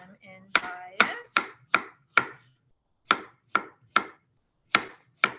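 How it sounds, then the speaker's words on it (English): Knife slicing carrots on the bias against a cutting board, about ten sharp, crisp chops in an uneven rhythm with short pauses, close and clear with no talking. "carrots, you can slice. I kind of like it in bias, so I cut them in bias"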